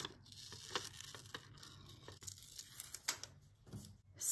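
Scissors cut through white paper in short, close crisp snips and tearing rustles, some quiet and some louder, with no speech.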